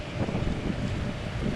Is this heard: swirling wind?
yes